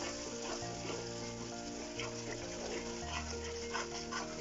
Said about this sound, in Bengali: আপনারা দেখছেন আমাদের মিক্সচারটা কিন্তু ফুটে গেছে